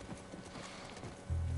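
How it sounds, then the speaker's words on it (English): Horse hooves clip-clop in The Last of Us, quick irregular hoof strikes at moderate distance over game ambience, with a low droning tone entering at the end. "That's our horse."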